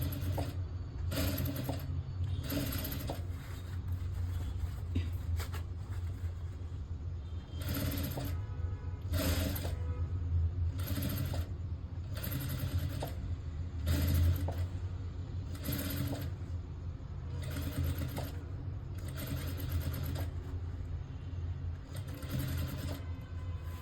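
A sewing machine stitches piping on a simple blouse, running in short repeated bursts with brief gaps between them, close and steady over a low background hum.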